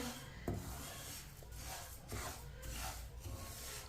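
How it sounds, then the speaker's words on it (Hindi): A spoon scrapes and stirs flaxseed roasting in a pan over a medium flame, making a quiet, continuous rubbing and rasping sound with a few soft knocks against the pan. "अलसी को ऐसे ही चम्मच चलाते हुए 4-5 मिनट के लिए भून लेंगे"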